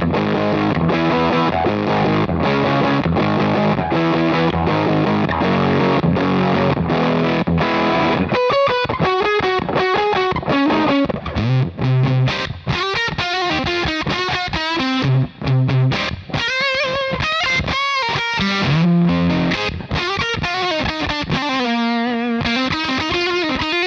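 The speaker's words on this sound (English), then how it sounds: "If we throw some fuzz on and a little bit of distortion from the full drive" A loud electric guitar with heavy fuzz and distortion plays thick chords, then switches to gritty single-note riffs and bends, with no voices.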